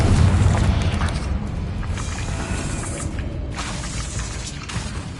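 Spell explosions from the video game Hogwarts Legacy, a dense stream of loud booming blasts and crackling impacts that rumble continuously for the whole stretch.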